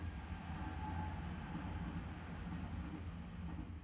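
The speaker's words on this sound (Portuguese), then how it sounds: "Tá passando trem agora, ó." Train passing near a residence in Japan, a steady low rumble and rolling rail noise heard from moderately close, even and continuous throughout with no voices.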